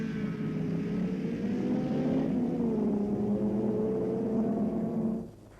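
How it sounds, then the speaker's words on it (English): Alfa Romeo GTA and Ford Mustang touring cars pull out of the pits at a 1966 race at Lakeside, a steady loud engine drone with shifting pitch that holds for about five seconds and then cuts away abruptly. "Gardner pilots our Alfa Romeo GTA, here followed out of the pits by Gagan's Mustang"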